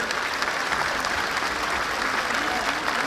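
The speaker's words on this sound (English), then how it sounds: "can we give a big round of applause for Martin" A crowd at the Women of Steel statue unveiling gives the sculptor Martin a loud, sustained round of applause that fills the whole stretch at an even level.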